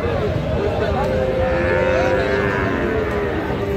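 A Friesian bull calf at a busy cattle market gives a long, low moo that rises and falls over a dense murmur of crowd chatter.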